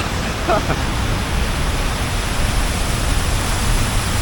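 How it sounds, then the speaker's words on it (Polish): City fountain in Kutaisi, Georgia: a continuous broadband rush of splashing water, steady and fairly loud, with faint outdoor background but no clear voices. "nie wiem czy tutaj trochę szum zakłóca od tej fontanny"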